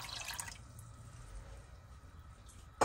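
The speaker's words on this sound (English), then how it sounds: "And I'll add in my water now as well." Water pours into a heated pan of sugar as the base for a rasgulla syrup, giving a brief, close splashing trickle for roughly half a second, followed by a low, quiet simmering hiss.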